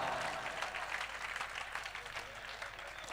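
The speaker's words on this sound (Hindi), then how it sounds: "तो एक मरतबा जोरदार तालियां बजाएं" Applause from the audience at an Urdu mushaira, a dense, steady patter of clapping that continues for a few seconds at moderate distance, fairly quiet overall.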